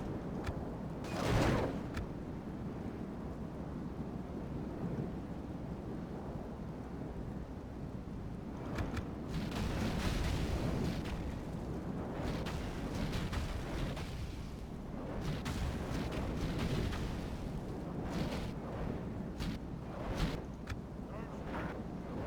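Dwarven artillery in a Third Age Total War battle at Dale lobs flaming shot, heavy booms and rumbling impacts rolling under a constant roar of battle noise, with scattered louder thuds across the span.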